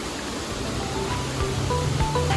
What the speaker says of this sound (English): Okay, time for me to show you the waterfall.